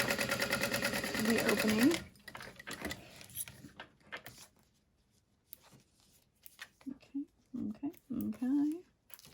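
A sewing machine stitches underneath a fold on a handmade batwing wallet, a loud, rapid, steady whir for about two seconds before it stops and a voice starts speaking.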